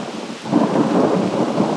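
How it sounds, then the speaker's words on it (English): Thunder rumbles during a heavy rainstorm in the Ozarks, heard from a deer stand as a loud, rolling roar over steady rain, filling the short moment. "Now it's just been raining and lightning and thundering for about half an hour"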